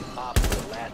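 A sharp burst of gunfire sounds in a Rainbow Six Siege match, one loud close crack with a short rattling tail, with players' voices faint around it.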